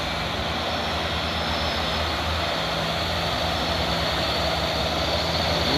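Heavily loaded trailer trucks, a Japanese Hino and a Chinese Sinotruk, climb Bukit Kodok hill with a loud, sustained diesel engine drone and steady low rumble, close by.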